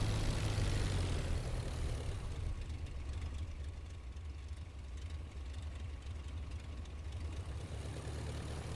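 Aircraft engine in the IL-2 Flying Circus flight game while taxiing with full right rudder and power added, a steady droning propeller engine that is louder at first then settles into an even rumble.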